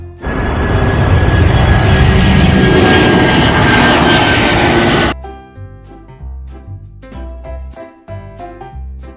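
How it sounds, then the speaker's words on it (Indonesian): An airplane engine roars loudly and steadily for about five seconds, a broad close rushing drone that stops abruptly before background music takes over. "Pesawat terbang."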